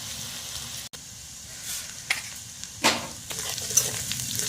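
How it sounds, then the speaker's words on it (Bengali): Chopped onion, ginger and garlic frying lightly over low heat in a pan, a soft continuous sizzle broken by a few scraping stirs, quiet and close with no voices. "পেঁয়াজ আদা রসুন আমাদের ভাজা হয়ে গেছে হালকা হালকা।"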